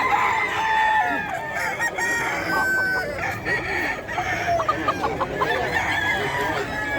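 Sweater Gilmore gamefowl roosters crowing and clucking at a busy pet market, with repeated overlapping crows over constant crowd murmur and nearby voices.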